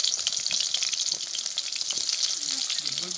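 An expensive fish frying in a pan, giving a dense, bright, crackling sizzle that holds steady and fairly loud throughout, heard up close with no talking.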